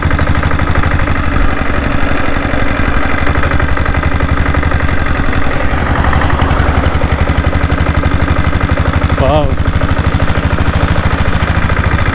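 A Diesel Bullet 7.5 HP motorcycle engine runs loudly and close by with a steady thumping idle and throttle blips that lift its pitch, a brief rev rising near the end; no talking.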